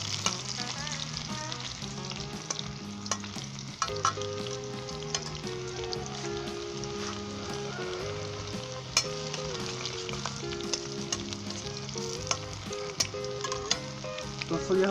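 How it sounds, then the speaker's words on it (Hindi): Chicken heart and gizzard fry with garlic in a karahi, with a dense, continuous sizzle and constant clinking stirring strokes close by; no talking. "1 मिनट के लिए मैं इसे फ्राई करूँगा"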